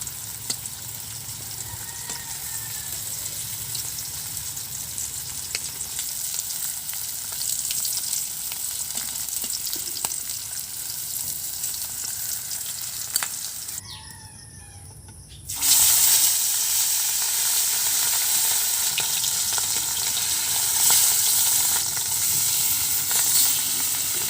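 Rohu fish fries in hot oil with a loud, continuous close sizzle that drops briefly in the middle, then returns even louder.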